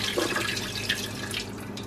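Rinsed vegan no-bake cheesecake ingredients being drained, with water running steadily into a sink in a continuous close splashing rush and no talking.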